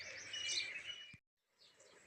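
Sparrows feeding in the morning give bright, rapid chirps and tweets at close range, quite faint overall, with a brief gap of silence before the chirping resumes softly.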